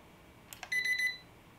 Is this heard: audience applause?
no